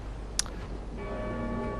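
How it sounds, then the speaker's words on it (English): A single bell rings once in the Dark Souls 3 video game, a brief bright strike followed by fainter sustained ringing tones, heard alone without speech. "Oh, there's the bell."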